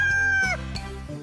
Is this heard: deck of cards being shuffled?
no